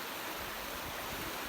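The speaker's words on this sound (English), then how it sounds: "That's a river." A countryside river in rural China flows with a constant broadband rush of water, steady and fairly loud, with no voices.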